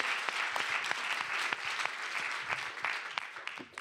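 Audience applause at an afternoon remarks session, a room full of people clapping steadily with individual sharp claps standing out, fairly close and without speech.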